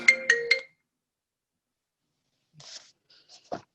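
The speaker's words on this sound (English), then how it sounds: "The phone threw me off." A phone ringtone chirps three quick times, close and clear, then falls silent, followed by faint rustling and a brief click.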